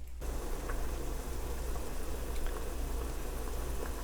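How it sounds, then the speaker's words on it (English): Turkey soup with celery, carrots and onion boils in a pot, a steady bubbling hiss with faint pops and a low hum, even and close, with no talking. "All right, now it's bubbling."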